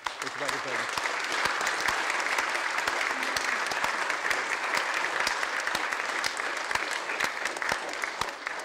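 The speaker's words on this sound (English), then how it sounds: "ask that we all join in a round of applause for Mel" A council chamber fills with a sustained round of applause from the members, steady dense clapping lasting several seconds with no break, heard fairly close and loud.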